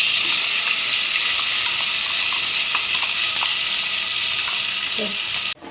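Spice masala hits hot oil for a fenugreek leaf curry, giving a steady, loud, broad sizzle that runs unbroken before a sudden clunk near the end.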